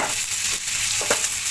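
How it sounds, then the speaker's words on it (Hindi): Koftas frying in a pan for a Lucknow-style matar kofta pulao, giving a steady close hiss and crackle of hot oil with a brief soft stirring scrape near the end, no voices. "देखिए इसको हम इस तरीके से हल्की हल्की करके कोफ्तों को फ्राई कर लेंगे।"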